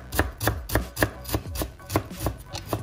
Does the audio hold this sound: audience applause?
no